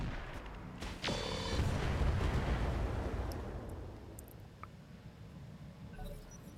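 Tandem rockets fire and burst in the RogueTech mod for BattleTech: a sharp launch crack, then a heavy rumbling blast that swells and slowly fades, with faint scattered impacts afterward.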